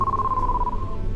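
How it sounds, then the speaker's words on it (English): Phone beeping during a Star Trek Online session: a single sustained electronic tone, fairly loud and close, holding steady for about a second over a low background hum. "My phone is beeping"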